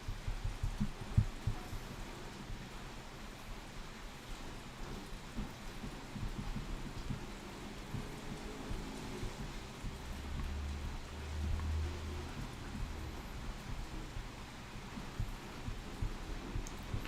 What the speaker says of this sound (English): I know we're in the middle of a rainstorm right now